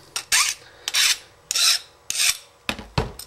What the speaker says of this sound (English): just a light file. And then just go around the edge, just lightly, to put a little bit of a bevel on it.